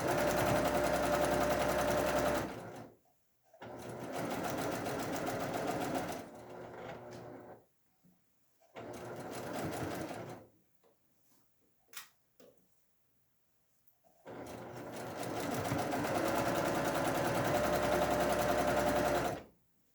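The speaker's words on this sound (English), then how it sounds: "And then I can go ahead and sew my section down" A sewing machine stitches a quilt section in four bursts of rapid, steady whirring, separated by pauses filled with faint handling clicks, all close and moderately loud.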